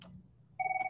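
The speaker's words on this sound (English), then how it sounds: "I didn't want to be interrupted by the phone." A telephone rings during a budget committee work session, a steady electronic two-tone ring starting abruptly partway through after a quiet room, loud and alone with no talk over it.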